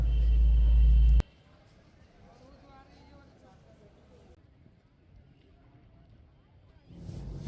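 A crowded river boat at the Kumbh Mela in Prayagraj gives off a low motor rumble and water noise. A loud burst at the start drops to a steady hum, with voices murmuring throughout.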